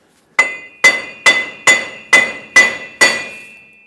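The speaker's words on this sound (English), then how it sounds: "take a hammer and tap the wheel bearing side to side" A hammer taps the wheel bearing on a 2003-2009 Dodge Ram 2500, seven sharp metallic strikes in an even rhythm with a bright ringing tone, close and loud.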